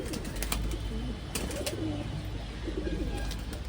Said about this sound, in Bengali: সব পায়রা চলেও আসছে পায়রার জল খেতে